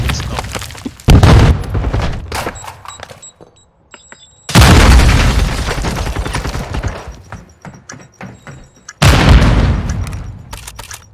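Grenade blasts in a competitive video game match: three heavy, loud booms, each followed by rumbling, crackling gunfire that fades before the next hit.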